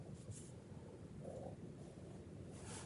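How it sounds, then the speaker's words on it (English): Strong wind buffets a parked car steadily in a low, rumbling roar, constant gusty noise close to the microphone. "It just got really windy. I don't know if you guys can hear that. Shaking the car."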